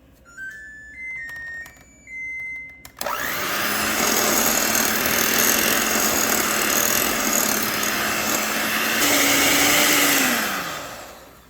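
An electric hand mixer beats butter and sugar for oatmeal peanut butter breakfast bars. After a few brief clicks and beeps, it starts with a loud, steady motor whine that runs without a break, then winds down at the end. No one speaks.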